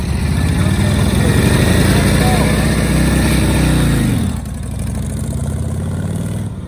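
A 1943 Harley Davidson motorcycle engine runs loud and close while put in gear, its chugging note rising briefly with throttle, then settling to a lower, steady rumble.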